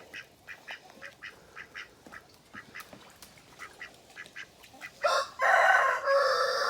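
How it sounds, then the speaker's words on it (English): Farmyard geese honk in a steady run of short, nasal calls spaced about half a second apart, then break into a louder, denser burst of overlapping honks near the end. "The geese are fine."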